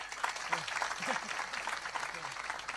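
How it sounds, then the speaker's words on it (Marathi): Audience applause at a kirtan: dense, steady clapping from a crowd fills the whole short stretch, with a faint voice underneath. "एकदा टाळी वाजवा आमच्यासाठी."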